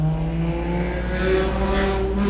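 A Dremel rotary tool fitted with a cone-shaped bit works on a motorized bicycle cable part, producing a steady, close, high-pitched motor whine whose pitch drifts slightly, with no talking.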